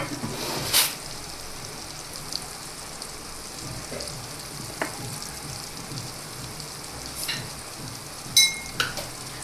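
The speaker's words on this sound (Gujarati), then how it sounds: "હવે બધા મસાલાને સારી રીતે મિક્સ કરી લેશું." Spices, including a garlic and red chili chutney, are stirred into a cluster bean and potato curry in a pan. A soft, steady sizzle runs under occasional spoon scrapes and light clinks.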